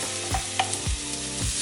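Onion sizzling in olive oil in a pan, a soft steady hiss with a few low scraping thumps as it is spread around, close and fairly quiet, no talking.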